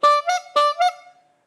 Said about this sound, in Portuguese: Uma buzina.